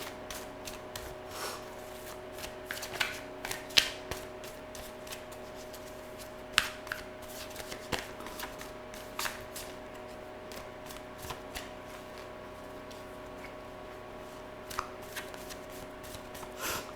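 Tarot cards being shuffled over and over in quick riffling bursts, crisp and close, with short pauses between rounds and no talking.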